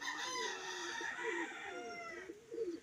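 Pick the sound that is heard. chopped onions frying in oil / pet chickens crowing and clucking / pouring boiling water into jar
pet chickens crowing and clucking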